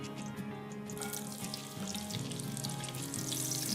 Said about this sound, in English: So let me just add the onions.